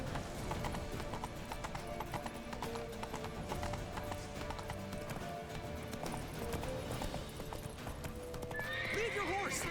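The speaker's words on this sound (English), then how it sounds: "This horse is just as broken as Roach, just randomly stops" Steady hoofbeats clatter along with a horse neighing near the end in The Witcher 3: The Wild Hunt, over layered game music and talking voices.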